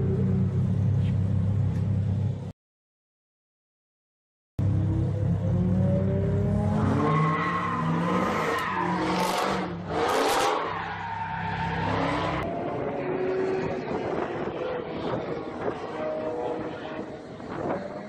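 Lamborghini Huracan Performante on a race track, with a loud engine roar rising through acceleration, sharp tire squeals and skidding in the middle, then a sustained rumble, all close and with a brief dropout near the start.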